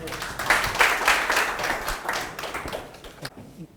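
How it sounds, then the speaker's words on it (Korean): An academic conference audience in Jeju applauds to welcome a lecturer on wind power: several seconds of dense, moderately loud clapping that thins out and stops near the end. "뜨거운 박수로 맞아 주십시오"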